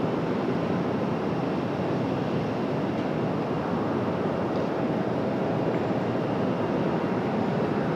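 A steady, loud, broadband roar of a jet airliner arriving from Pittsburgh at Raleigh-Durham International Airport, holding constant throughout with no talk.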